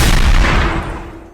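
A big gunshot sound effect in a song, a loud, close, booming blast that decays over about a second.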